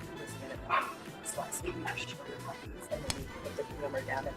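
Puppies bark and yip in short bursts at an outdoor live event at a baseball stadium, mixed with crowd chatter and people talking in the background.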